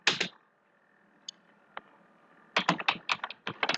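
Computer keyboard typing in an office setting, a quick burst of close, crisp key clicks after a faint isolated tap or two, with no talking.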